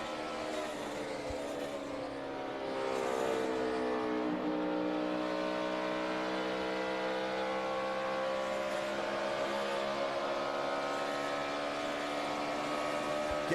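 Onboard audio of a NASCAR Sprint Cup race car at the 2011 Bank of America 500, its engine droning loud and steady throughout with layered harmonics that rise and fall slightly as the car accelerates, with no voices.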